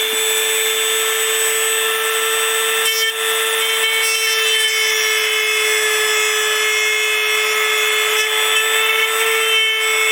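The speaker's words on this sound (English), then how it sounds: "You Dremel it out underneath the mark" A Dremel rotary tool cuts into wood while building a dummy engine for a Sopwith Camel model, giving a continuous, high-pitched whine with a steady grinding rasp that holds loud and close throughout.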